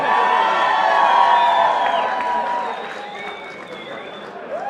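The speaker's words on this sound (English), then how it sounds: "Big round of applause for all our fighters." A live crowd at a boxing event applauds and cheers for the fighters, a loud, sustained wash of clapping and whoops that slowly eases off, with some speech mixed in.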